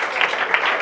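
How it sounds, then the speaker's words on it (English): A class stands and applauds, a brief burst of close, brisk clapping from a small group filling the whole moment. "Tout le monde se lève et on applaudit."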